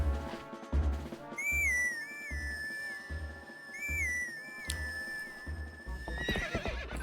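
A horse call blown on horse grass in the Zelda game Twilight Princess, a rising and falling whistled melody heard over rhythmic hoofbeats, followed by a horse neighing near the end.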